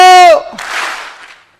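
An audience at a network marketing seminar claps once together on cue: a voice calls out briefly, then a single short burst of many hands striking at the same moment fades quickly into quiet.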